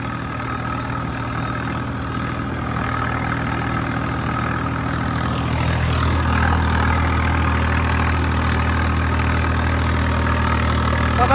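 A heavy diesel Swaraj tractor engine idles steadily and loudly, a low throbbing rumble that grows slightly rougher partway through.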